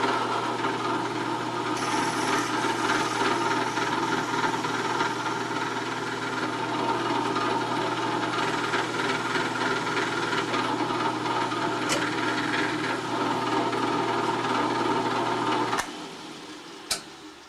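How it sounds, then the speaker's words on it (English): A drill with a 1/8 inch bit whirs steadily at close range, grinding through a model steam engine frame for a long stretch, then winds down with a couple of small clicks at the end. "Now we're going to drill mounting hole number 2 with a 1/8 inch bit."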